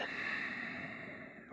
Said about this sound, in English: Breathe.